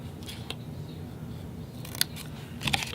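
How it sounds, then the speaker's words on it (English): Scissors snip through card stock in a few crisp, close cuts, one isolated early and a quick pair near the end, over a steady low background with no talking. "you're going to cut just up to that first score line"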